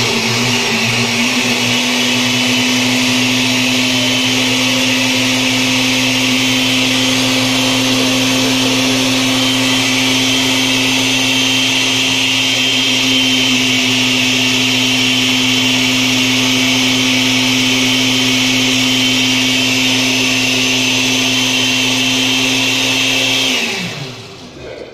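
A blender grinds onion, tomato and salt into tomato purée, a loud, steady motor whir held for over twenty seconds, then cut off abruptly at the end, with no talking.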